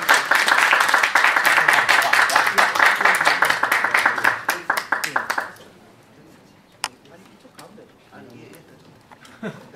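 A forum audience at the opening of the 4th Korea International Forum gives dense, energetic applause for a professor. It tapers off after about five seconds, leaving a few scattered claps and a quiet room.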